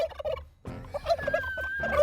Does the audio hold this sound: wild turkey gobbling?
yes